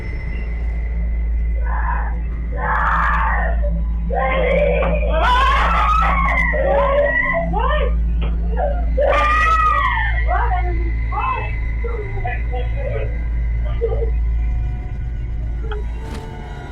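A girl screams and cries out in distress during a panic attack in the middle of the night, her wavering, high-pitched wails repeated over a steady low rumbling hum.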